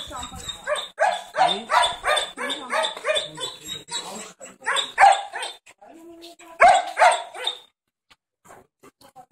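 Many dogs bark in repeated overlapping bursts at an animal shelter, loud and close, with a few whimpering yips between volleys before the barking trails off near the end.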